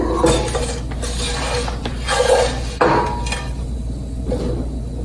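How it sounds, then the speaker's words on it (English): Cooked bacon lifted out of a frying pan with a utensil: a few metallic clinks and scrapes against the pan in irregular bursts over a low steady hum, close by and without speech. "This bacon's done enough, so I'm going to go ahead and take it out of the pan."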